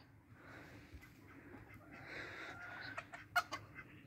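A rooster calling its hen makes soft, low clucking calls over quiet farmyard background noise, with a few sharper sounds near the end.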